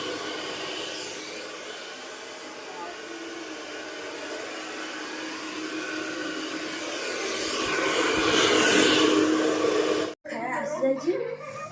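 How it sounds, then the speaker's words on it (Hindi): A hair dryer blows with a steady, loud whooshing hiss that swells slightly before cutting off abruptly, after which brief handling sounds and a voice follow. "Hair dryer मारछु।"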